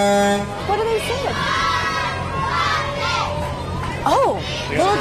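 A youth cheer squad, the Oildale Rockets, chants at a Christmas parade with high, energetic children's voices calling out in bursts. A horn toots at the start, and crowd noise fills the background.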